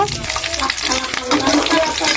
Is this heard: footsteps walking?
no